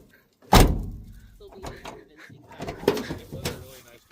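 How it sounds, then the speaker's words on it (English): A heavy truck door bangs shut with a sharp thud, followed by rattling clunks and creaks as it is opened and closed again, close by. "The door works amazing."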